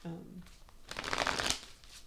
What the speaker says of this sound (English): So give me a second to get this shuffled.